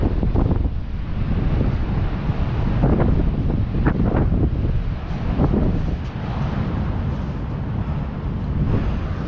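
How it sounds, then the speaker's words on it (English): Strong, cold wind on the beach at Lincoln City buffets the microphone in continuous roaring gusts, with a low surf-like rumble underneath. "It's still quite windy out on the beach,"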